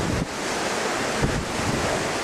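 Water flows out of the cave at Beck Head in a steady, loud rushing roar that holds without a break, with wind buffeting the microphone.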